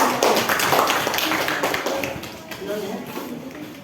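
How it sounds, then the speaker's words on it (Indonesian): Classroom applause during a group presentation in a mathematics lesson, a dense burst of clapping that fades over a few seconds, with voices mixed in. "tepuk tangan"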